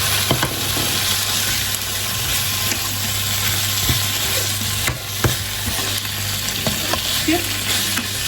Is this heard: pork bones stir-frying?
yes